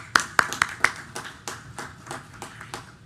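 Sparse clapping for graduates from Windsor and Smithfield at a school board meeting: a few sharp, close claps at the start, then scattered softer ones trailing off.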